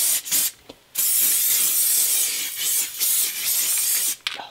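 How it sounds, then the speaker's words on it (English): An aerosol can of spray adhesive hisses in a short burst, then in a long, loud, continuous spray with a few brief dips, close up and without any talking. "Now it's time for the adhesive. I use some spray adhesive."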